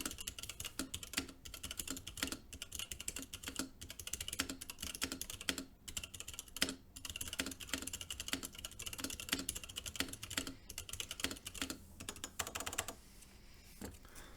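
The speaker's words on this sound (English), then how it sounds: "65 gram Zelio switch, so you'll be able to hear the difference pretty clearly here." Steady mechanical keyboard typing on 65 gram Zelio switches, a fast run of crisp clacky keystrokes with occasional heavier spacebar-like thocks, close and clear throughout with no talking.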